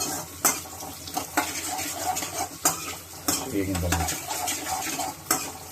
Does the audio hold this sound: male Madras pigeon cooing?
no